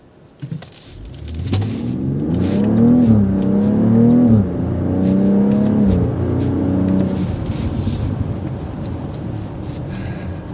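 A 2024 BMW X3 M40i engine roars up hard under sustained 0 to 60 acceleration, the pitch climbing through several gear shifts before easing off.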